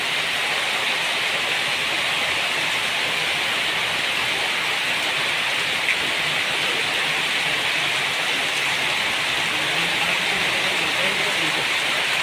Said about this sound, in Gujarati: ભારે વરસાદની અંદર